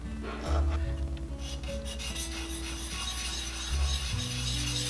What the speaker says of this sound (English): This is a sander that I got years and years and years ago. It's a Great Plains Easy Touch sander.